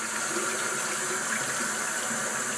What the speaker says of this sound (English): Rinse it, and I'm going to rinse it until it's clean.